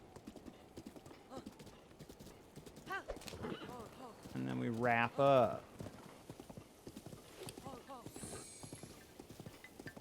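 A horse in a Zelda video game clip-clops along steadily and lets out a loud, close whinny partway through, while a person talks over the hoofbeats.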